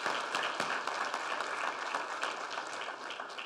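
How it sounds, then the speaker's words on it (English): An audience at a police fallen officers tribute applauds steadily for regional police leadership, dense continuous clapping at moderate loudness with no voices over it. "Can we give them all a round of applause for showing up?"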